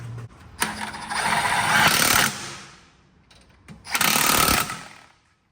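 Wheel studs on a BMW F80 M3 being torqued down, giving two separate bursts of loud, harsh mechanical ratcheting close by with a short pause between them.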